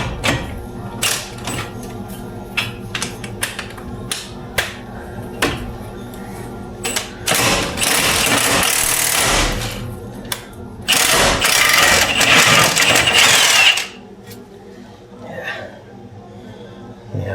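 An impact wrench fitted with an impact swivel works on the brakes of a 2003 Chevy Blazer, firing in two loud sustained hammering bursts after scattered clanks and handling noises, with someone speaking briefly.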